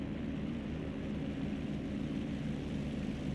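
An F4U Corsair's propeller engine drones steadily and loudly in a flight simulator as the plane overflies the runway at about 1,000 feet and 120 knots. The throbbing tone stays unbroken throughout.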